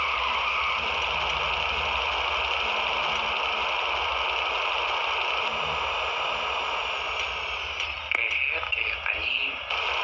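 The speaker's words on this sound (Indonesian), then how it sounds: "Oke, ini gue nemu motor Sanchez udah jalan." Steady buzzing drone of a Sanchez dirt bike engine running in GTA San Andreas Multiplayer, holding an even pitch throughout, with a brief burst of clicks and shifts near the end.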